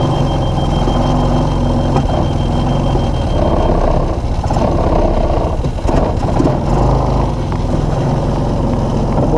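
A Linhai Big Horn 400 UTV with a no-spark fault idles and backs up, its engine a steady close rumble, with a faint periodic reversing beep under it.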